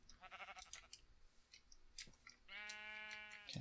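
A Minecraft sheep gives a few short, clear bleats close by, mixed with light clicking.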